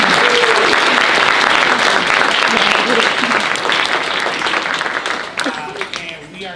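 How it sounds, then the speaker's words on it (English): Hearty applause from a lecture audience for a speaker, strong and continuous at first, then thinning out toward the end as voices begin to come through. "So can we give our speaker a round of applause?"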